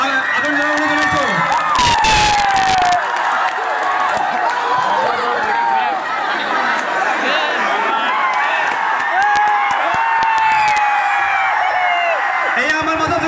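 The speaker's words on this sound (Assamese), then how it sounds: "সকলোকে একবাৰ হাত চাপৰি আদৰ জনাবলৈ জনাইছোঁ" An excited crowd at a Rangia College event with Zubeen Garg cheers, whoops and shouts loudly and continuously, with bursts of clapping, while a voice talks over the din.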